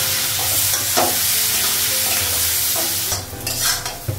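Onion and potato frying in a pan with a spatula stirring through them, a loud steady sizzle broken by scraping strokes and clacks toward the end.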